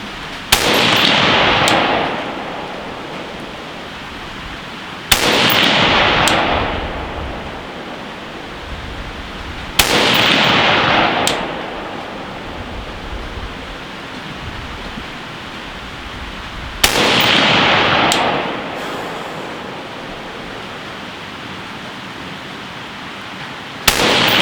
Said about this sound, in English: I'm just going to shoot at 100 yards and see what kind of group we're able to do